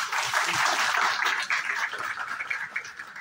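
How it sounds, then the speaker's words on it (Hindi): An audience clapping steadily in a dense, sustained burst that stays fairly loud throughout and tapers slightly toward the end. "एक बार तालियां बजा दी"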